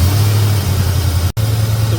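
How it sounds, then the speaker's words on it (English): A car engine running steadily right after a cold start, with a constant low idle hum that holds through a momentary cut, loud and close with no talking. "We just cranked it with a cold engine, so we're going to let it run for 15 minutes"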